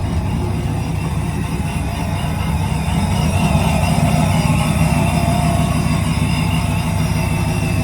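A boosted, supercharged Hemi engine idles with a lumpy, choppy supercharger note, running loud and close in a steady rumble with no break.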